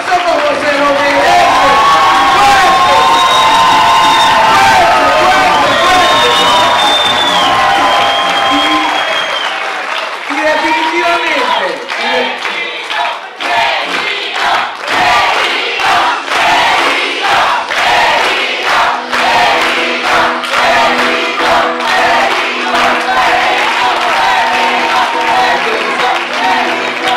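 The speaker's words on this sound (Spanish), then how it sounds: "un aplauso como se lo merece" Applause and cheering from a dinner crowd at a third-anniversary celebration in Bogotá, Colombia, loud and sustained with whoops at first, then settling into steadier rhythmic clapping.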